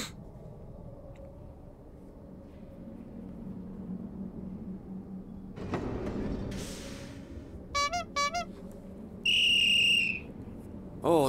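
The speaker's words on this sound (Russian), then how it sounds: "Это всего лишь сигнал мотоцикла. И полицейский свисток." Short whistle and horn signals sound in the Thomas the Tank Engine video game Thomas Saves the Day: two quick bursts of a motorcycle-style signal, then a sustained shrill police whistle, over a low background hum.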